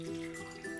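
Filtered water poured into a bowl of pitted dates, a soft, steady trickling stream heard close up and fairly quiet, continuous throughout with no talking.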